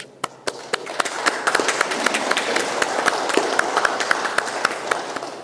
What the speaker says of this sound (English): they deserve to be recognized with applause